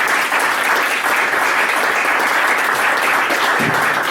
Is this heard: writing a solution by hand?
no